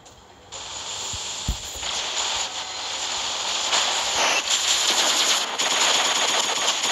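Rapid automatic gunfire rattles in a squad-based shooter video game, sustained bursts over a hissing background, fairly loud and continuous with no talk.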